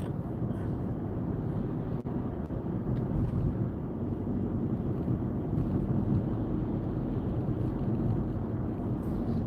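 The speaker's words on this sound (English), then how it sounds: "but it is windy." Steady wind roar buffets a car driving local roads on a freezing winter day in New Jersey, a continuous low rumble with no speech.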